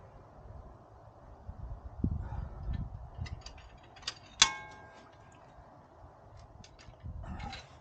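Bolts being tightened on a Jeep Wrangler axle without a torque wrench, quiet ratchet clicks and metallic ticks with a sharper clank midway, close and faint against a low background.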